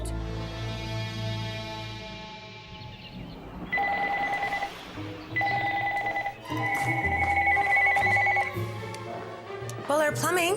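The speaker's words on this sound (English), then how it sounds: "The phone doesn't stop ringing. It's constantly ringing. It's really loud as well." A loud household telephone rings in bursts of bright electronic trills in a busy home, with voices and background noise beneath it.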